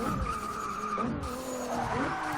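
A race car oversteers through a turn on a track, its tires skidding and squealing in a steady, close, loud slide with the engine droning underneath for a couple of seconds.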